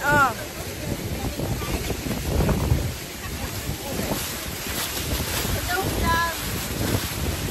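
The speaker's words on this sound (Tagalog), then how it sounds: "Hangin yan." Strong wind roars and buffets the microphone continuously near Niagara Falls, with rushing low rumble throughout and faint voices in the background.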